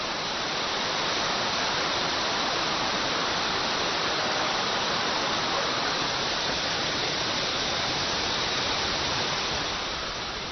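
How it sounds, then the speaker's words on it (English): Wide waterfall at Jiuzhaigou in China in winter, a constant broad roar of falling water, steady and unbroken with no voices. "Its name means grand in Tibetan, and as the widest waterfall in China, it certainly deserves that description"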